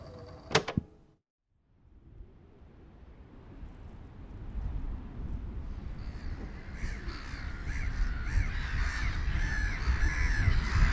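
Seagulls give a brief burst of harsh, cawing cries at the start, then a broad rushing sound swells steadily louder to the end.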